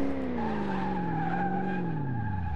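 Tyres skid and squeal under hard braking in the Car Mechanic Simulator 2018 video game, a loud, continuous screech with a wavering pitch over the engine drone, fading slightly as the car stops.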